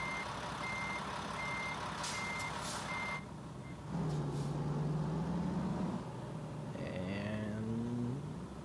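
A truck reversing in American Truck Simulator, its steady repeating backup beeps pulsing close at an even rhythm, then cutting off as a low engine drone and air-brake hiss rise; a brief chirpy squeal follows.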